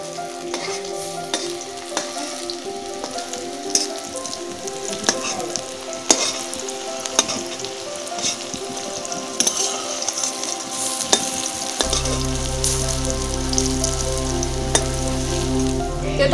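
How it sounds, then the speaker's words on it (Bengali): Bitter neem fritters fry in hot oil with a constant close sizzle. Frequent scraping and tapping stir strokes run under a layer of soft background music. "চলুন, মাখা হয়ে গেছে, এবার বড়াগুলো ভেজে নিই।"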